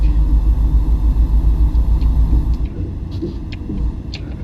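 Simulated truck engine from American Truck Simulator, a steady low rumble with road hum that drops in level partway through, continuous and close with no talk.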